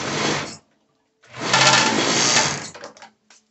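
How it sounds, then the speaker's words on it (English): A serger sewing machine stitches the sides of a two-piece dancewear top with elastic, running in a short close burst, pausing, then a longer loud whirring run that stutters to a stop. "So I'm going to be stitching the sides. My serger work like a clutch."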